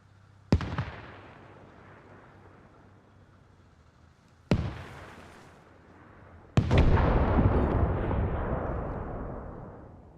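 A tank is destroyed in the military video game Arma Reforger: three heavy explosive booms, the last the loudest, each trailing off into a long, rumbling decay.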